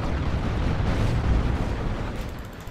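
A rocket run strike explodes in the Dawn of War 2: Retribution real-time strategy game, a loud, sustained rumbling blast that swells and then slowly fades over a few seconds, with no talking.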